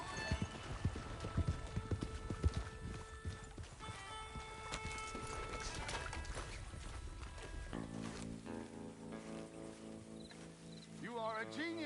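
Horse hooves clopping at a gallop in the video game Red Dead Redemption 2, layered under game music and ambient effects, with a whinny-like sound near the end.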